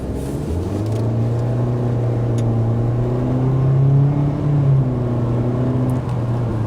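A 2019 Mitsubishi Eclipse Cross accelerates onto a main road, its engine drone rising steadily in pitch and load over several seconds, heard from inside the cabin with no talking.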